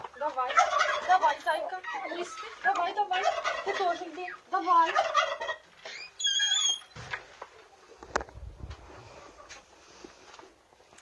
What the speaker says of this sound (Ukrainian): У мене ще одна сидить індичка.